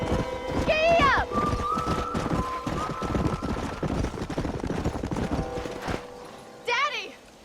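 Hooves drum rhythmically as a horse gallops in the Western game Red Dead Redemption, loud and close, with a whinny at the start and another near the end, while voices speak over it.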